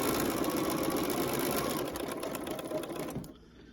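A sewing machine stitches a quarter-inch seam on a scrunchie wristlet. The close, steady motor whir holds constant, then slows and stops just before the end.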